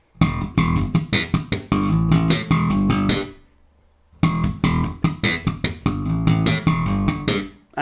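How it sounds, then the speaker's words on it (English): A slap bass riff's second bar, heard twice as a run of punchy thumb slaps and bright pops with a brief pause between passes, close and loud with no voices. "So the whole of that second bar sounds like this."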